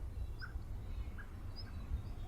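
Faint, sparse bird chirps, a few short distant tweets spaced apart, over a steady low background rumble.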